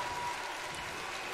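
A WWE 2K19 wrestling video game arena crowd buzzes with a steady, dense roar of cheering and applause for a WCW Saturday Night match.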